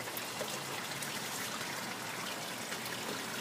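An aquarium fish bubbler aerates the water of a floating-raft hydroponic lettuce tub in a West Texas greenhouse, giving a faint, steady bubbling trickle with no break.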